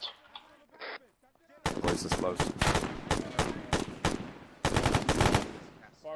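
Loud machine-gun bursts in a video game, fired over teammates, come as rapid clusters of sharp shots with brief pauses between them, after a short spoken call.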